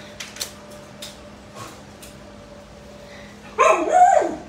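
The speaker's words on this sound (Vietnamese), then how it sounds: "Thôi con đừng sủa con, mẹ mệt lắm rồi đừng có sủa." A dog barks indoors in a short burst of several yips and barks near the end, loud and close after a quiet stretch with faint background noise.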